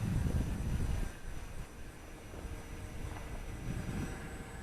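A Fun Cub EPO RC airplane of 1100mm wingspan flies under electric power, giving a steady, airy motor drone mixed with wind rush that holds at a constant level, with no voices.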